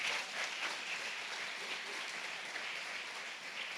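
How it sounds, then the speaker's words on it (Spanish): Congregation applauding during a church sermon, a steady broad wash of many hands clapping that holds evenly throughout without talk. "Alguien dele un aplauso a Dios."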